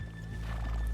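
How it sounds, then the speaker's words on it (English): A horse in the Red Dead Redemption 2 video game whinnies loudly over a steady low rumble, one drawn-out neigh with faint hoof clops beneath it. "let's leave the horses here off the main drag"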